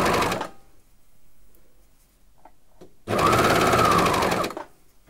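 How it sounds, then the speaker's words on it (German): A domestic sewing machine stitches a ribbed cuff band onto a sleeveless summer top, running in two loud steady bursts separated by a quiet pause with faint handling sounds. "So, und dann kann ich einfach losnähen."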